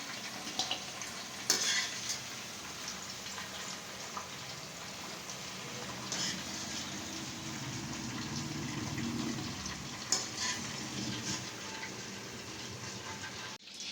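Drumstick pieces fry in hot oil for a pickle, giving a steady close sizzle with occasional stirring clatters and a brief scrape, no voices over it.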